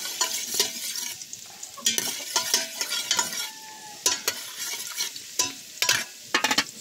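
Garlic sizzles in hot oil in a pan, a close crackling fry broken by repeated sharp bursts and scrapes as it is stirred, with no talking.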